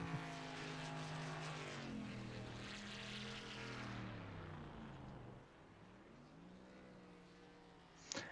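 A race car doing a victory burnout at Mid-Ohio in a racing game, a loud sustained engine drone with shifting pitch that fades after five seconds, ending with a short sharp burst.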